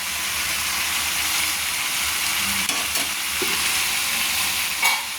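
Chicken being sautéed with spices and a little water in a pan, a dense, steady sizzling hiss close up with occasional scraping stirs, no talk.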